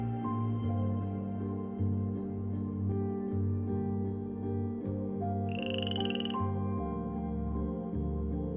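Frogs croak and chirp at night in the Amazon rainforest, a dense, steady, pulsing chorus close and loud, with a brief higher trill rising above it partway through.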